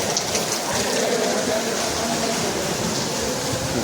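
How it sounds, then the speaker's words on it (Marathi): Steady heavy rain pours down, a dense continuous hiss with no pauses, close and loud throughout. "भरपूर पाऊस पडता"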